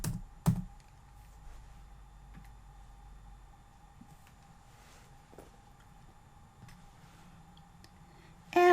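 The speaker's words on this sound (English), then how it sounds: "So on the first page, I'm going to type annual." Keys on a computer keyboard tapped while entering header text in an Excel spreadsheet, a sparse run of faint, close clicks spaced irregularly over a quiet, steady background hum, with no voices.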